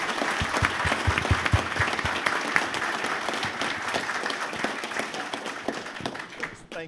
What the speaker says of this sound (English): Round of applause for Albert Charpentier